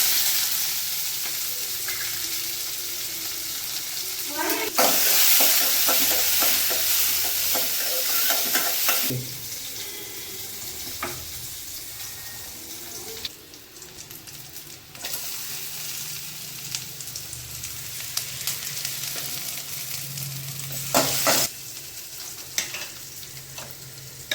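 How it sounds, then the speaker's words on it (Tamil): Okra, mustard seeds and small shallots frying in a pan for a home tempering, giving a loud, steady sizzle close by, with repeated scraping strokes of a spoon and a louder burst of crackle partway through. "வெண்டையும் போட்டுக்கலாம் கடுகு போட்டுக்கலாம் சின்ன வெங்காயம்"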